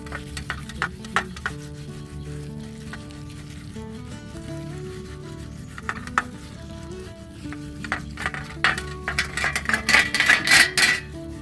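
Tarnished metal Durga idol weapons being rubbed and scrubbed clean by hand, giving light scraping and clinking metallic scrubbing that grows busier and louder toward the end, with no talking.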